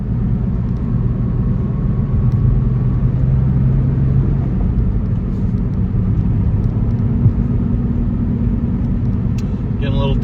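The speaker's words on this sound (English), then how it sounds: "Getting a little tire noise. These are pretty aggressive tread blocks on these tires, and they're very outdated." Steady broadband road roar from aggressive, outdated tread-block tires on a 1993 Porsche 964 Carrera Cabriolet, heard from inside the car while driving, continuous and fairly loud with faint engine hum beneath.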